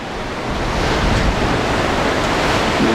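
Ocean surf splashes against the rocks beside the Bondi Icebergs pool in Sydney, a loud, steady wash of white noise that builds slightly and holds without voices.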